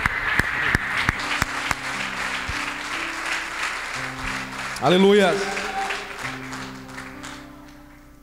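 A Pentecostal church congregation claps in applause, a dense patter at first while a voice speaks over it and music plays, fading away as the clapping dies down.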